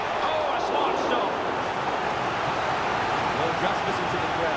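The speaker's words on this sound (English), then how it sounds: "Well, just listen to the crowd." A stadium crowd in the FC 24 football video game roars as a steady, dense wash of noise during a corner chance, with a commentator talking over it.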